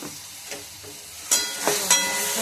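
A mixture with tomato gravy sizzles and fries in a pan as it is sautéed, with a steady close hiss and several scraping stir strokes.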